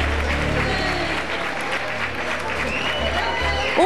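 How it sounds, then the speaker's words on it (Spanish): Steady audience applause at a dance academy's end-of-year closing ceremony in a hall, continuous clapping from a sizeable crowd that swells slightly at the end. "Un aplauso para él."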